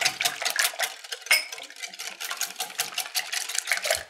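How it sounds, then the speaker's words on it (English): Eggs for sausage and egg burritos are beaten in a bowl, giving a quick, steady clatter of a utensil whisking against the sides, close and busy, with no talking. "Now we're just going to beat these up."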